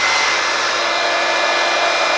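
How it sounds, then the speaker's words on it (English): Loud, constant airflow roar of a Panasonic EH-NA65CN hair dryer at full blast, close and unbroken throughout with a faint high whine and no speech. "That is the Panasonic hairdryer."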